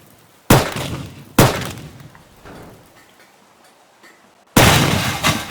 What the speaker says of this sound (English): I'm gonna shoot your leg now.